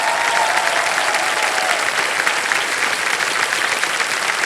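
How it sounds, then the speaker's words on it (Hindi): A studio audience at a Hindi quiz show gives a contestant a sustained, loud, even round of applause that fills the whole stretch. "तालियों के साथ इनका स्वागत किया जाए"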